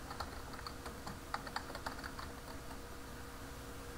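Quiet typing on a computer keyboard, a run of light irregular key taps over a steady background hum, close and without speech.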